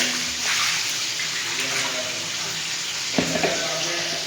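Water drains steadily from freshly washed vegetables in a kitchen, a continuous soft splashing hiss with a brief clatter near the end.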